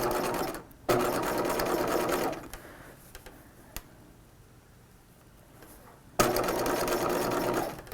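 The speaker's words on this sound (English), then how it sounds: "I'm going to back stitch here" A sewing machine stitches and backstitches a seam on a 1950s-style dress with a full skirt, running in loud steady bursts, pausing through a quieter stretch, then whirring again close by.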